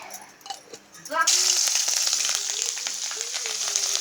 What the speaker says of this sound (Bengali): জিরে ফোড়ন দিয়ে ছিটকে আসতেছে।